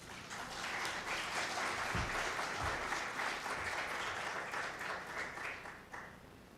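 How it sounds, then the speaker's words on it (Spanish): An audience at an award ceremony breaks into sustained applause, a dense, even wash of clapping that holds for several seconds before thinning out toward the end. "Recibámoslo con un aplauso."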